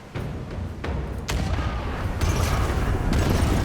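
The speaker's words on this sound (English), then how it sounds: "Fire the starboard cannons. All three guns. Fire." Ship's starboard cannons fire in a naval battle in a video game, a run of heavy booms and thuds landing one after another over a rumbling background.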